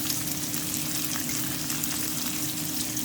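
Zucchini, onions and garlic cooking with wine in a pan, a steady, soft hissing bubble close by, unbroken and low in level.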